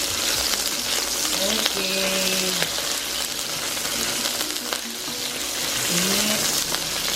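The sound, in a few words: fish sizzling while frying in a pan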